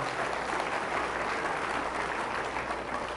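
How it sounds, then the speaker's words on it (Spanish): A church congregation applauds during a Spanish-language Catholic healing service, dense continuous clapping filling the room evenly from start to end, moderately distant and without speech. "Fuertes aplausos a Jesús por su amor y su misericordia."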